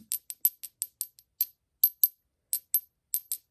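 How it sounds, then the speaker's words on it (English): A Lemurian cathedral crystal laser wand is tapped about fourteen times in a quick, uneven series of sharp, bright clacks. Each clack is short and dry, with silence between taps. "Now see, this is a normal clack. That's not singing."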